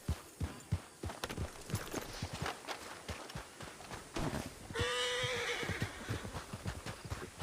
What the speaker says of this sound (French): je vais mettre mon cheval à l'extérieur